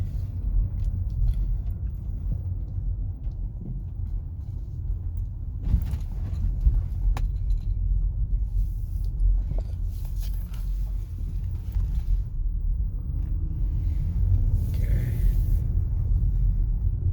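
A BMW with a former rough idle and stalling fault drives along a road, a steady low engine and tyre rumble heard from inside the cabin throughout, with a few faint clicks and knocks and no speech.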